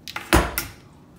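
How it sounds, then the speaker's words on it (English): A compartment door in a hotel suite is opened and closed, giving a few close, knocking clicks, a louder thud in the middle and a short fading rattle, with no talk. "Another compartment."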